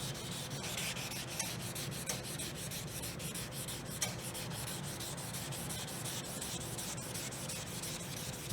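Automotive filler putty over clear coat drips on a motorcycle part is hand sanded with 320 grit sandpaper, a close, steady back-and-forth rasping rub repeated continuously with no talking.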